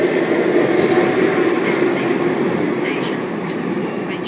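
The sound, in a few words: Sydney train departing platform at Chatswood station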